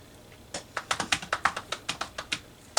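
Someone types quickly on a computer keyboard at close range. About a dozen crisp key clicks land in an uneven rhythm over a quiet background, with no voices.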